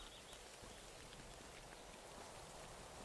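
Steady, soft rain hiss fills the scene at the Fushimi Inari shrine in a video game, a continuous even wash with no distinct drops or other sounds.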